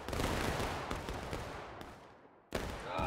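A massed musket volley fired on command in the War of Rights video game, set at Antietam's Sunken Lane, cracks out loud and close, rolls off into a long fading echo, then a second sharp volley breaks in near the end.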